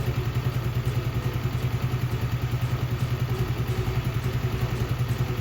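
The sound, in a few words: Icebear Champion Honda CT70 clone motorcycle engine running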